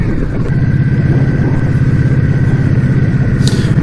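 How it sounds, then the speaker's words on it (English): A motorcycle idles steadily nearby, its exhaust giving a loud, even low rumble with a pulsing throb, plus a couple of brief clicks over the top. "I'm going to leave the bike running, see if they can hear me over the exhaust"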